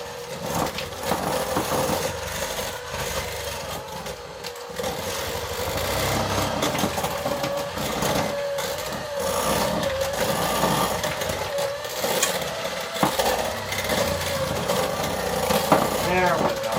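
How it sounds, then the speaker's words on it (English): Electric hand mixer whirring steadily through carrot cake batter in a home kitchen, a continuous motor drone with a fluctuating pitch lasting throughout, with a voice talking intermittently over it. "Plug this in. And we're going to mix this up."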